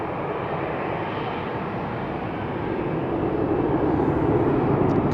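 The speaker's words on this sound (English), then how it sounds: "KLM flight 1579 will be leaving for Lisbon." KLM Boeing 737-800 jet departing Amsterdam Schiphol for Lisbon, a dense, steady engine rumble that grows slightly louder toward the end, with no voices.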